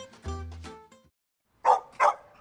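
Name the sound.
dog barking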